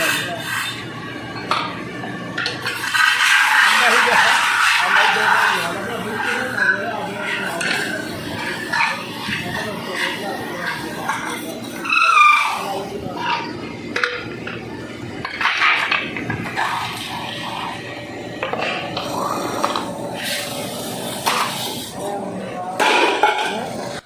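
Metal cooking pots being made in a utensil workshop in Gujranwala, Pakistan: continuous scraping, rasping and metallic clatter with irregular knocks, moderately loud and close, and faint voices now and then in the background.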